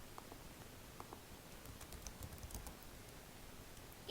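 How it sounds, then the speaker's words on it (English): Quiet, rapid keystrokes on a computer keyboard tap away steadily in a hushed room, soft and close, with no voice. "what I want to do first is type out the last name of the first author"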